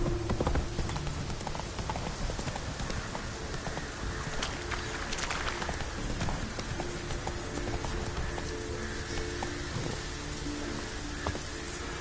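Horse hooves galloping at a steady run in The Witcher 3 video game, a continuous clip-clop rhythm mixed with rain-like ambient noise, heard alone without speech.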